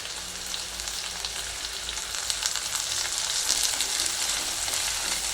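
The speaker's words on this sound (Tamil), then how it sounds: "வெங்காயம் நல்லா வதங்கிடுச்சு இப்போ தக்காளி" Tomatoes sauté with browned onions in oil for rava kichadi, giving a loud, continuous crackling sizzle with small bursts that grow slightly busier toward the end; no voices.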